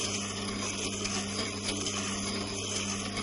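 A Tormek DBS-22 sharpener grinds a drill bit in a steady, even whir with a low hum beneath, continuous and close, with no talking.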